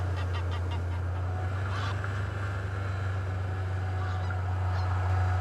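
Wild geese honking in flight, a few short calls scattered over a loud steady low engine drone, the birds moderately near and partly masked by the motor hum.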